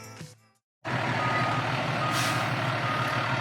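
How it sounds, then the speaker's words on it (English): A fire truck reverses into the fire station, its loud engine rumbling steadily with backup beeps after a brief moment of silence. "the fire truck is brought back inside the station"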